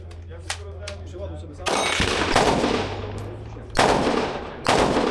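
Loud gunshots crack close by at a shooting event in Poland, a few sharp blasts spaced out with echoing tails, after a quieter stretch with faint clicks.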